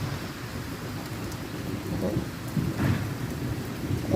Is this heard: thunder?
yes